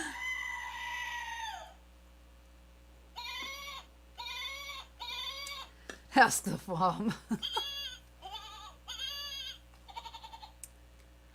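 Goats bleating and screaming in loud, wavering cries, several separate calls with a short gap between bursts, close by, while people talk over them at an outdoor lakeside luau.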